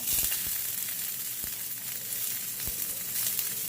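Onion and scallion frying in a hot pan with herbs for Jamaican beef patties, giving a steady close sizzle with a few soft clicks of stirring throughout, no voices.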